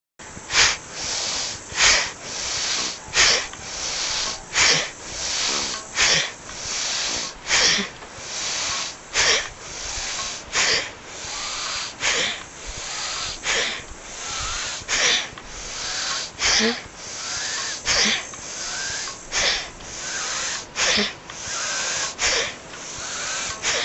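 Rapid, forceful breathing strokes from a yoga breathing exercise, a steady series of about twenty-five sharp exhalations in an even rhythm, close and loud, with no talking.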